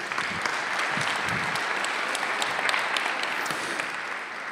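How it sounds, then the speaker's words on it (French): Steady, dense applause from a large audience at a digital inclusion launch event in Haute-Garonne, continuous and even throughout with no voices standing out. "On peut applaudir Annick."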